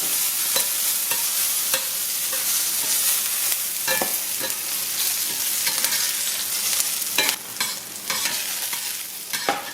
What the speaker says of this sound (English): It's my living on the edge that I get to do here by cooking my shishito peppers